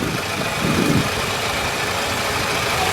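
A 2000 Toyota Camry LE's 2-liter four-cylinder engine idles under the open hood, a steady, even hum with a smooth rumble and no variation in pace, close and fairly loud.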